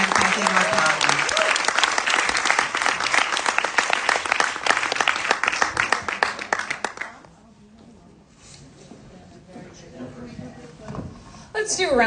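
Applause for the panelists at a women's forum panel, loud dense clapping for about seven seconds that falls to a quiet room, then a brief new burst of sound at the very end.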